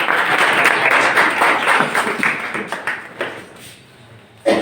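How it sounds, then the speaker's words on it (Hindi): An audience claps to welcome the first participant of a quiz series, fairly loud applause that thins and fades out toward the end before a sudden short burst. "तो तालियों के साथ"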